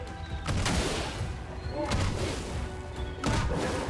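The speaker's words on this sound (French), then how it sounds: "j'ai toujours beaucoup de mal avec ces coups de canon" Several heavy booming cannon blasts in Clair Obscur: Expedition 33, spaced a second or so apart, over a dense rumbling background of gameplay noise.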